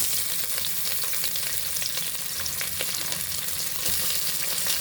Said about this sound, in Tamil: கிராம்பு, பட்டை, வாசமான பொருள்லாம் அந்த எண்ணெயில் போட்டு நல்லா அப்படி பொரிய விடணும்